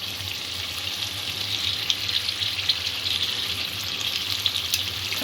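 Spinach paste hits a hot pan for an aloo-spinach curry, giving a steady, close sizzle and frying hiss that holds evenly throughout with no talking.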